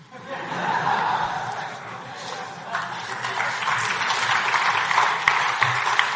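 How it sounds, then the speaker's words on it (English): Crowd applause at an outdoor London talk for Z-Day 2014, a steady, fairly distant patter of clapping mixed with scattered chuckles and murmuring from the gathered audience. "I don't know what you're clapping for."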